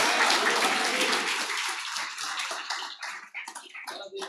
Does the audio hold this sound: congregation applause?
yes